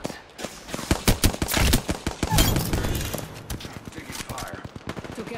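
Rapid bursts of gunfire in the video game Apex Legends, sharp repeated shots crackling loudly in quick clusters over a busy background, heard mostly alone.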